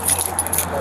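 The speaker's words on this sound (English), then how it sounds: "Okay, we'll get her keys." Keys jangling in a brief, close metallic jingle during a police stop, with a low hum beneath.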